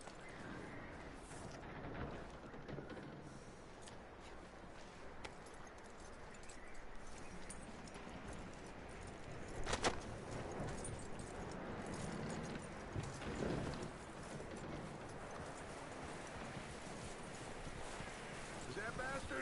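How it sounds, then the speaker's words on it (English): Horse hooves clip-clopping in the Western video game Red Dead Redemption, a steady rhythm of hoofbeats mixed with wind and ambient outdoor noise at moderate level. "That looks like a decent horse."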